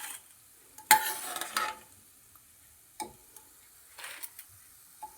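Food fries in a pan until golden while a utensil stirs it, giving sparse scraping clicks and brief bursts of sizzle separated by near-silence.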